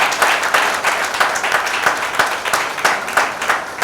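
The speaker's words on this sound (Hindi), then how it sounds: "जितनी तालियां हो सकती है दिनेश भाई के लिए कम।" Audience applause at an annual general meeting, a full, continuous round of clapping from a crowd with a slightly pulsing texture throughout.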